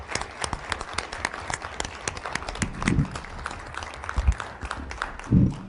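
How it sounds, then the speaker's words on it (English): Audience at a school board of education meeting clapping for a retiring teacher, scattered uneven claps from a modest crowd with a few louder bursts and shuffling, fairly close and thin rather than a full roar. "so please give a round of applause to Mrs."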